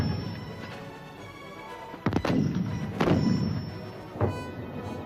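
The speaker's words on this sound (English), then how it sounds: "the British shells kept falling remorselessly until the Argentine line broke" British artillery shells land and explode against Argentine lines during a final bombardment: three heavy booms with trailing rumble, spaced a second or so apart over a low background hum.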